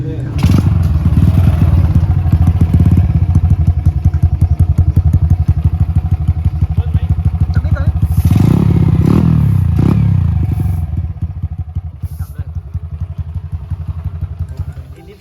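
Classic 53 motorcycle engine ticking over in a steady low thrum, with gentle revs swelling briefly midway and again slightly later, close and fairly loud, along with some clatter.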